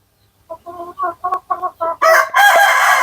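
A rhythmic run of close clucks from Light Sussex chickens on a farm builds into a loud, sustained rooster crow at the end, with no talk.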